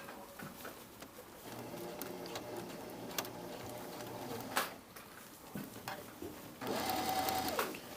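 A sewing machine stitches a set-in blouse sleeve at a 5/8-inch seam, starting from the underarm, running in steady bursts of rapid mechanical chatter with brief pauses and small handling clicks between runs.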